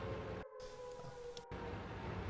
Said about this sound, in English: the siren's a little loud.